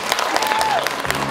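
An audience at an awards ceremony claps steadily for a short stretch, a dense, close, even burst of applause from a crowd.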